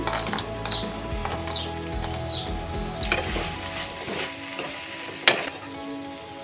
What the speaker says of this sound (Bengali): আমি আগে থেকে ভেজে রাখা আলু দিয়ে দিচ্ছি দিয়ে দিচ্ছি বড়ি